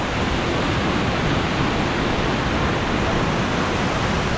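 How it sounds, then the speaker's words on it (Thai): Soi Sawan waterfall in Ubon Ratchathani during the rainy season, its strong flow making a loud, steady, unbroken roar of rushing water close by. "ดูน้ำตกดิ"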